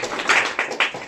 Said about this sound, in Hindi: सभी लोग पहले ताली मारना है